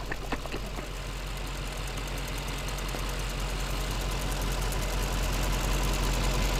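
A Mercedes-AMG E63s Stage 3 engine idles steadily with a low, continuous rumble and faint rhythmic knocking, with no talking over it.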